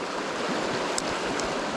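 Rolling white water tumbles over itself in a fast river where anglers are euro nymphing, a continuous close rush with a couple of brief splashy bursts and no voices.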